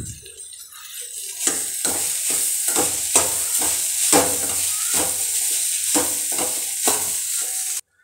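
Crumbled idli is fried in a pan with egg for idli upma, with loud, steady sizzling broken by a series of regular scraping stirs, close up and with no talking.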